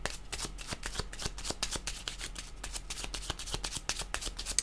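Tarot cards are shuffled by hand in a quick, steady riffle of crisp snapping clicks, close and continuous for several seconds with no voices.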